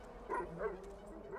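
Chop, the dog in Grand Theft Auto V, lets out a short whining, yipping whimper in a couple of quick bursts, fairly close and moderately loud over a steady low background.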